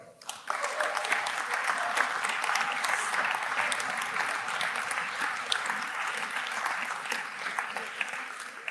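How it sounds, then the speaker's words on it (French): A banquet audience applauds steadily and warmly, a dense, even wash of clapping that holds for several seconds at a fairly close distance with no talk over it. "vous pouvez toutes et tous les applaudir"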